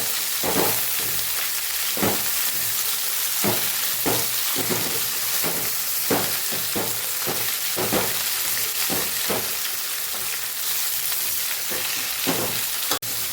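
Steady loud frying sizzle of coriander leaves in a pan throughout, broken by repeated sharp scraping stirs every second or so, with a brief clunk near the end.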